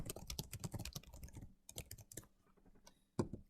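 Typing on a computer keyboard: rapid, close clicking keystrokes in quick bursts with short pauses, then a final louder tap, quiet overall and with no speech.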